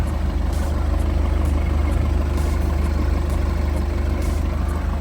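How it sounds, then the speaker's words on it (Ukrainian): A VW Passat B8 with a 2.0 diesel engine idles steadily, a constant low rumbling drone with a faint regular ticking pulse, close and unchanging, with no voices. "Прогрію двигун, перевірю, чи патрубки не дує."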